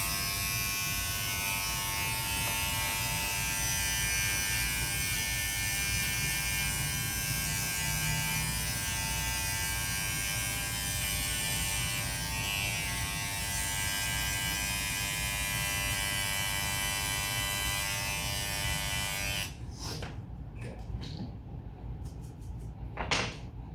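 Electric hair clippers buzz steadily and close during a barber's fade haircut, a constant bright hum that cuts off near the end, followed by a few brief clicks and handling noises.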